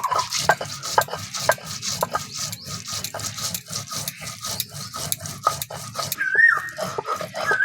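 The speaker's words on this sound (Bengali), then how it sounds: "জল দিয়ে ভালো করে বেটে নেব।" Whole spices ground with water into a wet paste, heard as a close, steady rhythmic scraping and rubbing of stone on stone, with a dog whimpering briefly near the end.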